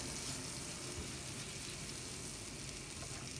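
Butter sizzles steadily as it melts in a frying pan already used to cook zucchini, a dense, close crackle with no talk over it.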